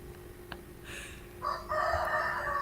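A rooster crow that rises and holds in a drawn-out, nasal cry on a social audio call, heard once at moderate volume over a steady background hum; it may be a person imitating the bird.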